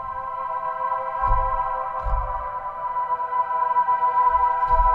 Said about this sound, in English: I found this very sharp string sound